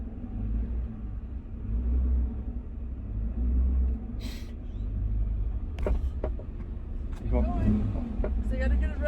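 A pickup truck idles and creeps forward up a driveway with a low steady engine rumble throughout, while people talk inside the cab.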